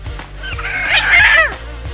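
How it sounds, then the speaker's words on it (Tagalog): Wild red junglefowl (labuyo) clucking in a mountain forest, a few close, bright calls rising and falling over about two seconds, with a low steady rumble underneath. "Mga ligaw na manok yan."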